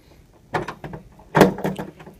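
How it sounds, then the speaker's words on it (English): A door being pushed and propped open indoors, two close knocking and scraping bursts, a softer one then a louder thud with rattle, in an otherwise quiet room. "I figured I'd just prop it open for him so he doesn't get mad."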